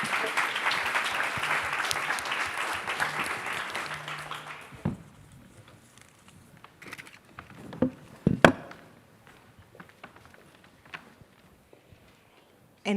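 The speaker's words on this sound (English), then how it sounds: "I think they merit also a big applause" Audience applause for a conference panel in Linz: dense clapping for about five seconds that quickly thins out, followed by scattered taps, shuffles and a few sharp knocks in a quieter room.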